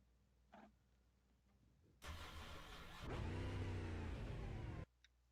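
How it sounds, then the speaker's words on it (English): Super late model race car engines in iRacing start up and rev loudly, a sharp rising roar that holds at a high pitch before cutting off abruptly. "We are back as you hear the cars revving their engines."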